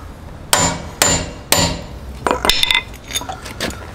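Three sharp, ringing hammer blows on a Dodge wheel lock at an even pace, followed by a flurry of lighter metallic clinks and taps.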